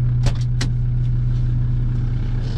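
A Volkswagen LT van, old and heavily rusted, idles with a steady low engine hum close by, and a few brief higher clicks sound near the start.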